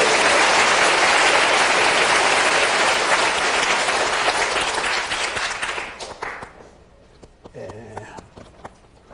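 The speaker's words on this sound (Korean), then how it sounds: "사의 영광의 박수 힘차게 하고 갑시다" A church congregation gives strong, dense applause during a sermon, the many-handed clapping loud and steady for several seconds before thinning out and fading to scattered claps and quiet room sound.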